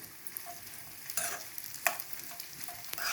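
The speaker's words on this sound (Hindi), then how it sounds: "इकट्ठे ही हम इन सबको भून लेंगे।" Churma ladoo ingredients dry-roasted together in a pan, heard as soft scraping stirs with a few sharper spoon strokes at irregular intervals over a quiet, steady background, no voices.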